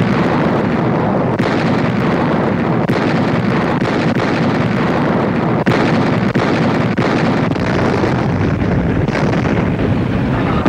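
WWII naval bombardment by cruisers and destroyers, a dense, continuous roar of blasts and rumbling with a few sharper bursts standing out, loud and unbroken throughout.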